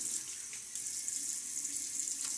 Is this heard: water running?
yes